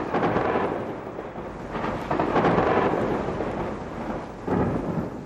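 Deep thunder rolls across mountains in long swelling rumbles with rain hissing beneath, fading and surging again, loud and continuous.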